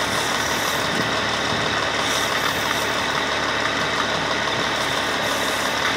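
A car engine idles steadily during a tap-water decarbonization, water fed slowly into the throttle body; a continuous, even rumble with broadband hiss, close and alone.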